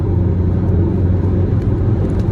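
A 2023 Citroën Berlingo 1.5 BlueHDi diesel at half throttle, about 2000 rpm at 110 km/h on a motorway, gives a steady, low engine drone heard from inside the cabin with constant road rumble and no sharp revving.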